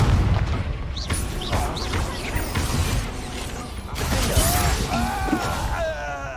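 Confringo explosive fire spell in the Hogwarts Legacy video game, a dense roaring blast with crackling bursts and shattering debris, loud and continuous with sweeping magical whooshes.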